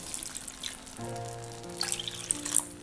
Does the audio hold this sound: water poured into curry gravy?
yes